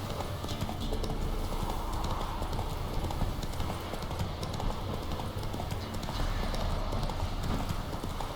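A horse's hooves clip-clop at a steady trot in The Witcher 3: Wild Hunt, loud and continuous throughout, with a dense rhythmic beat under a constant ambient wash.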